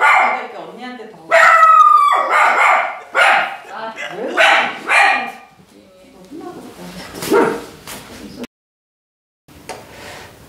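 A dog barks in a string of loud, sharp bursts alongside people talking in a room, with quieter whines and shuffling toward the end after a brief silence.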